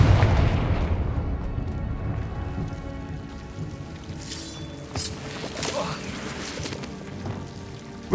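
A Confringo blasting spell explodes in Hogwarts Legacy, a deep booming blast at the start that rolls off into a long rumbling, crackling tail with scattered debris-like patter.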